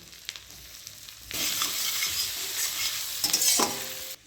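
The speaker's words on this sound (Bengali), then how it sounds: "আদা আর কাঁচা লঙ্কাটা ভাজা হয়ে গেছে" Ginger and green chili frying in melted butter: a quiet start with light clinks, then a loud, steady close-up sizzle with stirring that swells and fades near the end, with no talking.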